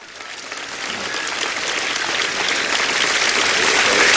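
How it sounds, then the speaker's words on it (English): Sustained applause from a capacity crowd at Center Court, Sea Pines Racket Club, during a 1977 men's singles tennis final, a dense steady wash of clapping that builds gradually louder over several seconds. "The applause from the capacity crowd here at Center Court, Sea Pines Racket Club"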